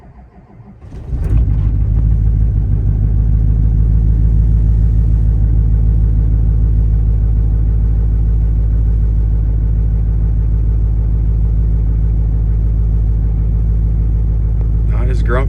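On a sub-freezing morning, a 2007 Chevy Silverado 2500 HD with a 6.6 LBZ Duramax diesel, stock turbo, 3-inch downpipe and 5-inch straight pipe cold-starts after a brief crank. It settles into a loud, deep, rattling idle that runs steadily close to the microphone.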